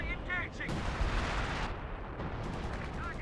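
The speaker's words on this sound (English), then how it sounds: "OKW Panzer 4 firing away" A Panzer IV tank fires in the video game Company of Heroes 2, booming game cannon and battle noise running through the clip, with a voice talking over it.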